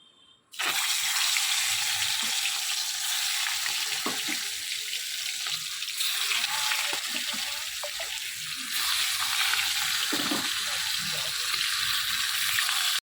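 Something frying in hot oil in a Bengali home kitchen, a steady loud broadband hiss filling the whole stretch after a brief quiet start, with occasional small clicks and pops beneath it.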